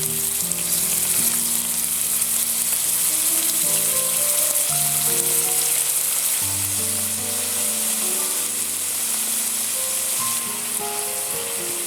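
Salmon and shrimp sear in a hot pan, giving a continuous even sizzle and crackle at close range with some bubbling, no voices.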